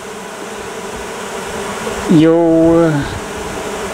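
A swarm of honeybees buzzes at a hive after a natural swarm is caught, a steady drone with a louder close pass of a bee near the end, under brief speech.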